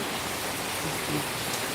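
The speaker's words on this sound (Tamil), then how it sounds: "இருக்க இருக்க மழை அதிகமாக தான் ஆகிட்டே இருக்குது குறையில எப்படி ஏறிட்டே போகுது பாருங்கள்" Heavy rain pouring steadily outdoors, a dense, even hiss of downpour that stays loud and constant throughout with no voices.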